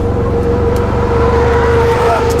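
A Ford Ranger Raptor pickup's engine drones steadily while it drives through a long left corner on a track, a loud continuous in-cabin hum and road roar.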